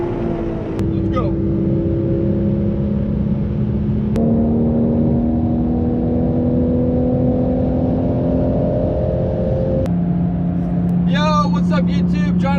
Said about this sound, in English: with the GT3, and we're going to the track, Buttonwillow Speed Districts